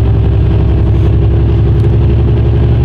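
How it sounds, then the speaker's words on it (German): Loud, steady in-cab drone of a vehicle cruising on the Autobahn, constant low engine and road rumble with no talking. "Bin ich auf der Autobahn und fahre nach Westerstede."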